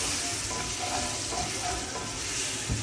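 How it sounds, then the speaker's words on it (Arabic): Mushrooms and flour fry in ghee with a steady close sizzle while being stirred, scraping gently throughout. "قلبي بقى لما الدقيق يدوب مع المشروم خالص"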